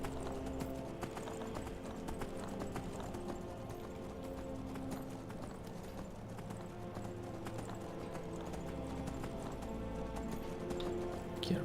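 Horse hooves in the video game Skyrim beat out a steady, continuous clip-clop at a quiet level for the whole stretch, with no talk.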